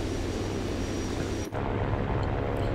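A loud, continuous roar of a Wyvern attack aircraft engine at full throttle in War Thunder, with a brief dip in the middle.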